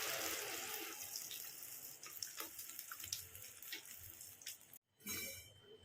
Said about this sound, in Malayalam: കുറച്ച് വെള്ളം ഒഴിച്ചൊന്ന് കഴുകിയെടുക്കുക